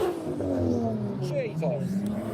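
Two turbocharged Nissan Skyline cars revving at a car meet, engines rising and falling in pitch with a steady growl close by, while people talk over the noise.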